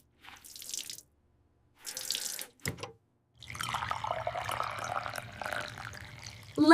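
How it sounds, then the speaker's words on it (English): Hands washed at a sink after garden work: tap water runs in short bursts separated by silence, then pours steadily with splashing and dripping for several seconds, close by with no voices. "Wash away the garden dirt."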